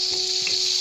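Meat pieces frying in a spice masala give off a steady, close sizzle with a continuous hiss throughout.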